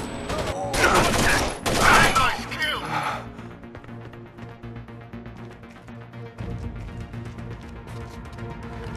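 Close, loud bursts of rifle fire crackle in rapid succession during a firefight in Rainbow Six Vegas 2 with an L85A2, then give way to quieter game ambience and music with voices calling out.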